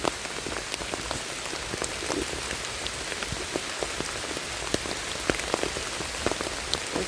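Steady rain falls on a surface, with scattered individual drops tapping crisply over a constant soft patter, outdoors while mushrooms are being gathered.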